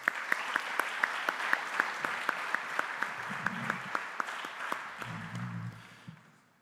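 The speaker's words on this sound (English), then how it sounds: "One more round of applause for Mr. Teodorescu." An audience applauds steadily, a dense wash of clapping with a few sharper claps standing out, fading away at the end, with brief voices underneath.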